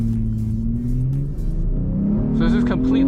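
A V6 Jeep engine revs up to about 2,500 rpm during a launch control test, with a rising, droning motor tone that climbs in pitch toward the end while someone talks over it.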